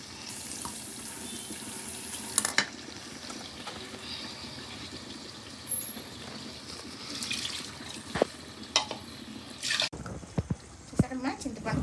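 Running tap water splashes steadily while something is washed in a kitchen sink before cooking a fish tamarind curry in a clay pot, with a few louder splashes and clatters; someone talks over it.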